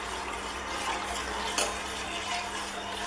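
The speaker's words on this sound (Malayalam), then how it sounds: "നമ്മൾ ഇളക്കിക്കൊണ്ടിരിക്കുന്നത് എന്തിനാ വെച്ചാൽ അതിൻ്റെ മുകളിൽ ഈ പാട കെട്ടാണ്ടിരിക്കാൻ വേണ്ടിയിട്ടാണ് നമ്മളിങ്ങനെ ഇളക്കുന്നത്" Milk stirred in a pot on the stove while heating for homemade vanilla ice cream, a soft continuous scraping and swishing at close range with one brief louder clink near the middle.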